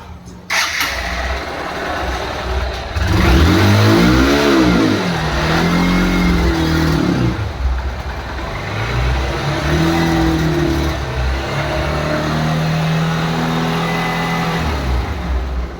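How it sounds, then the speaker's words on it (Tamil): A Honda Unicorn motorcycle engine, just repaired with a new timing chain fitted, cranks, catches and starts, then revs up and down several times before settling into a loud, close, uneven idle. "இப்போ வண்டியை வந்து நம்ம ஸ்டார்ட் பண்ணி பார்ப்போம்."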